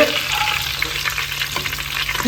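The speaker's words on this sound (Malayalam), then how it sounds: "ഇതിലോട്ട് ഒരു ദണ്ട് കറിവേപ്പിലയും ഇടാം" Curry leaves sizzle and crackle in hot oil in a pan for a coconut-free Kerala fish curry, a steady close frying hiss with small pops throughout, no talking.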